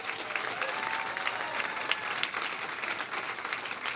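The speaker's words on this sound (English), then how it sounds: "could you please give all the storytellers you saw another round of applause?" An audience applauds storytellers at a live storytelling show, a steady, dense wash of many hands clapping together for the full stretch with no pauses and no voices rising above it.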